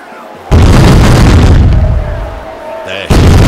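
Cannon broadside fire in an East India Company naval battle game, with two loud booming blasts, the first sustained and rolling off, a second striking near the end.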